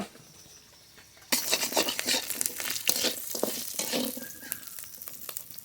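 Tengra fish frying in oil in a pan, a quiet hiss that jumps to a loud, steady crackling sizzle with dense popping spatters after the first second.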